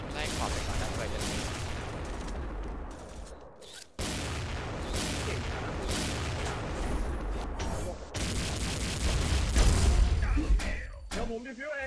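Gunfire in XSHOT, an online shooter, in ghost mode: dense bursts of rapid shots and booms through the whole stretch, loud and close, with someone speaking now and then.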